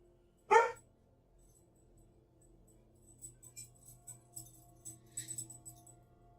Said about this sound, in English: There is a dog walking past my house. My dogs are very upset.